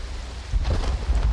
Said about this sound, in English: as you can see, it is starting to rain.